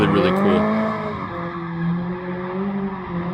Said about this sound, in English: Just listen to that engine sing.